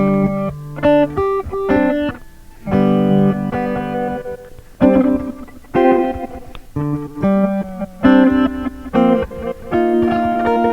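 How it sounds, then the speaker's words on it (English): Electric guitar runs through a Line 6 DL4 delay modeler set to reverse echo, a loud phrase of plucked notes with backwards swelling repeats smearing between them, no talk. "Now I've got it functioning more like a regular echo, but the echoes are backwards"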